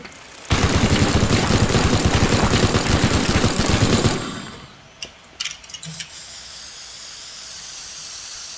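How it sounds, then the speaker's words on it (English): A minigun fires in the video game Teardown, a dense, rapid roaring burst of gunfire lasting about four seconds, then cutting off to a few scattered clatters and impacts over a low background hiss. "This minigun is insane."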